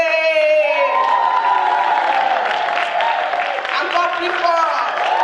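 A pageant crowd at Miss Congo-Canada 2016 cheers loudly, with whoops, shouts and clapping all blending into a continuous roar that stays strong for the whole stretch.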